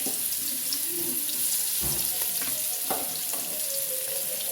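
Onions added to hot oil and sautéed for a prawn roast give a steady, close, broadband sizzle with a faint hiss throughout and a few soft stirring knocks, heard on their own.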